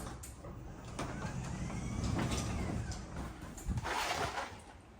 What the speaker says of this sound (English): Better open the door a little more than that.